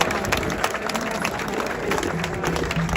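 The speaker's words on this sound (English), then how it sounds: "So please give yourselves a round of applause." A crowd at an outdoor rally in Geneva claps and cheers, a steady spread of many hands with scattered louder claps and faint voices mixed in throughout.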